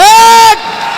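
A Hindi comedy poetry show audience lets out a loud, sustained cheering shout that cuts off after half a second and drops into softer, rumbling crowd noise.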